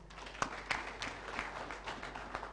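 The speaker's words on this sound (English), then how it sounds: "let me invite us to just clap for ourselves for being such an engaging audience." An engaged audience at a Centre for Africa Volunteers live-streamed event claps together in a moderate, fairly distant round of applause with irregular individual claps, no voices over it.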